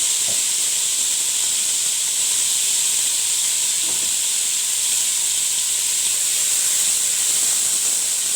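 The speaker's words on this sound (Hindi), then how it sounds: "अच्छा सा भूनेंगे इसको जब तक कलर चेंज नहीं होता तब तक भूनिएगा इसको।" Ginger and garlic fry in a pan with a loud, continuous hiss and sizzle, punctuated by a couple of faint utensil taps.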